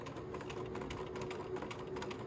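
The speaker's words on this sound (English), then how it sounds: "Okay, so when I start off, I'm going to go ahead and sew." A sewing machine steadily stitches an elastic casing in fabric, a faint continuous mechanical whir with fine rapid ticking and no pauses.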